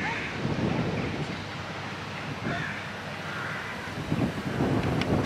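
Gusty wind buffets the microphone outdoors on a walk near Bremen, a dull, roaring rush that swells and fades throughout, loud and close.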